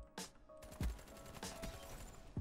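Gunfire in the shooter Black Ops 3: several loud bursts of shots with sharp low thumps and bright cracks, spaced irregularly over dense game noise.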